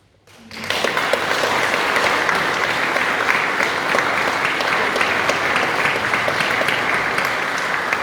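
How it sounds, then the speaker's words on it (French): Sustained applause from a large audience at a royal coronation ceremony, steady and dense clapping that swells in quickly and holds at full volume without fading. "sous vos applaudissements"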